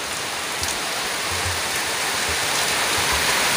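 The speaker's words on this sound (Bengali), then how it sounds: "বৃষ্টি পড়ছে।" Rain falls steadily, making a loud, even hiss of drops on surfaces with no voices over it.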